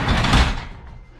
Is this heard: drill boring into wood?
no